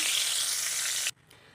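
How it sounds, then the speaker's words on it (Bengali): Dried red chillies and bay leaves crackle in hot oil in a kadai, a bright, loud hiss that holds steady for about a second before dropping away suddenly. "এখানে আমি শুকনো লঙ্কা আর তেজপাতা ফোড়ন দিয়ে দিলাম"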